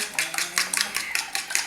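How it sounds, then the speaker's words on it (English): Eggs being whisked in a bowl for huevos con chile, heard as a quick, steady run of close clinking strokes, roughly five per second, with no talking. "Let's continue whisking."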